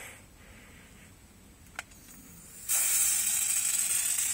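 An aerosol can sprays at a black widow spider. After a quiet stretch and a brief click, a loud, sustained hiss bursts in and carries on close to the microphone until the end.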